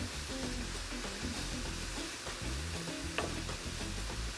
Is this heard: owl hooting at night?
no